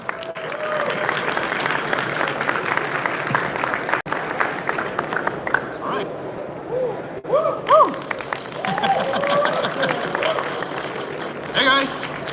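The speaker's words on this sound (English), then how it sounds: "Give him a big round of applause." A crowd applauds steadily, then the clapping tapers off as cheers and voices rise above it.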